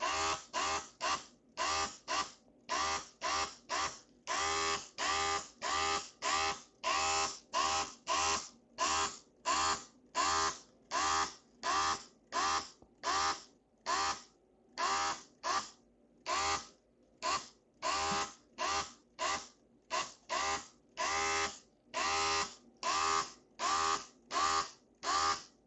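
A xTool airbrush sprays paint over laser-cut Millennium Falcon layered wall art in short, evenly spaced hissing bursts, dozens of quick pulses in steady rhythm, close and clear with no talking.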